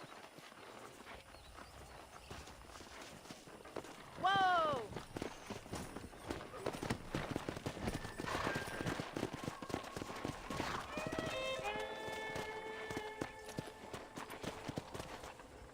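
Hoofbeats of wild horses in the Western video game Red Dead Redemption, faint clip-clop under game music and a voice, with a horse's whinny and a shouted call to the horse partway through.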